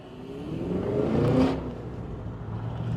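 The supercharged V8 of a 2023 Cadillac Escalade V revs up, swells to a peak and drops back, a mid-distance engine swell with a rising whine. No distinct exhaust pops stand out.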